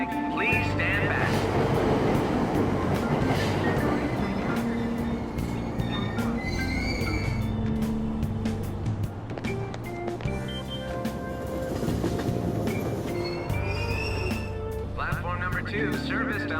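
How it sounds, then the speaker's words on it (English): A train sits at a station in the Persona 5 Royal video game, with rumbling carriages, door chimes and announcement tones over steady station ambience, and a voice speaking over parts of it. "Train doors are now closing. Please stand back."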